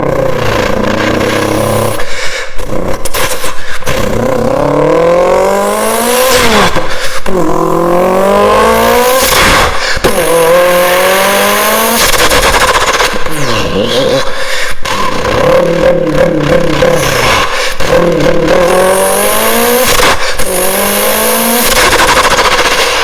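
A human voice mimics a Subaru WRX STI engine in a public bathroom late at night, loud revving sweeps rising and falling through gear changes, with sputtering pops and gaps between pulls.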